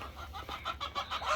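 Chickens in a large coop converted from an old multi-dog house, clucking in quick, uneven bursts close by, several birds overlapping against a low background hum, with no talk.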